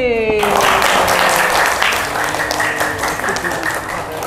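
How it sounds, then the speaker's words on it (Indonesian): Loud applause from a group of children at a Quran learning centre in Pekalongan, Indonesia, a dense steady wash of clapping that fills the clip, with voices mixed in. "Beri tepuk tangan yang kenceng untuk kelompok B."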